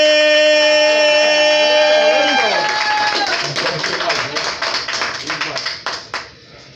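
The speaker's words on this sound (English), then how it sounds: "start clapping for me, y'all" An audience at a live show claps, with scattered, uneven claps rising under a loud, sustained voice and then thinning into a few sharp hand claps that fade out.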